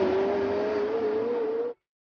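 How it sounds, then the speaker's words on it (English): A 2018 McLaren 720S supercar holds a steady, smooth engine drone at an even pitch, loud and close, then cuts off abruptly into silence. "I think the McLaren 720S has the best McLaren sound so far."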